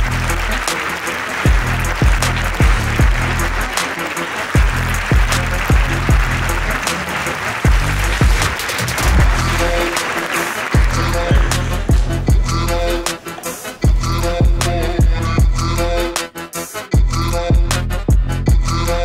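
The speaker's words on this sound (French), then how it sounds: "un tonnerre d'applaudissements s'il vous plaît" Loud, sustained applause from a seminar audience at Brussels Expo, with the crowd's clapping overlaid by pulsing background music that grows more distinct with sharp hits toward the end.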